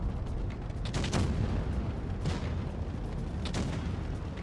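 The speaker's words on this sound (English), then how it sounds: "Now I need to angle my turret towards the type, but I wanna shoot" Tank cannon fire in a tank video game booms in a few heavy, rumbling blasts layered over a constant engine drone, with distant shots echoing through the battlefield.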